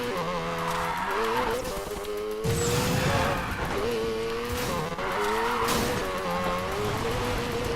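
Drift cars in Need for Speed Payback slide with sustained tire squeal over a steady roaring engine, the pitch rising and falling through repeated drifts, loud and continuous.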